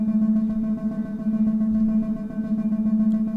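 A Korg Volca Modular synth percussion patch runs through a space-out effect, giving a steady droning tone with quick rhythmic clicks and pulses repeating throughout at a moderate level, with no voices.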